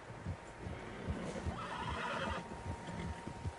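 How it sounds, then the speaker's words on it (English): Several horses in the Western video game Red Dead Redemption 2 whinny and snort while hooves clop softly in an irregular rhythm, close by with outdoor ambience and no talk. "Horses, quite a few of them."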